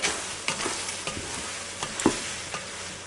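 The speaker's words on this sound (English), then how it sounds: "I can start to hear it sizzle" Macaroni and cheese with beef smokies sizzles steadily in a hot Ninja Foodi Deluxe pot, with a constant frying hiss and occasional soft clicks of stirring, close and moderately loud.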